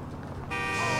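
A car horn in Grand Theft Auto IV gives a sudden steady honk that cuts in over low driving rumble and holds to the end.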